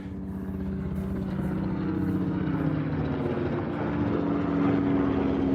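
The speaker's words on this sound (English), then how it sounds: "Helicopter!" A helicopter passes over the rooftop of Toyosu Fish Market in Tokyo, a steady low rotor drone and engine rumble that grows slightly louder as it nears, heard alone without talk.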